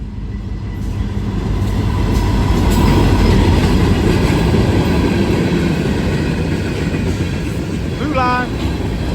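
A Norfolk Southern freight train rolls past close by, a loud, steady rumble of rail cars with clacking wheels throughout and a brief squeal near the end.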